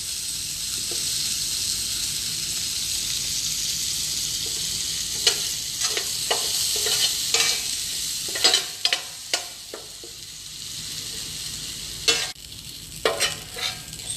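Mushrooms fry in a pan with a steady hiss of sizzling throughout, broken by sharp clicks and knocks of a utensil, sparse at first and clustering toward the end.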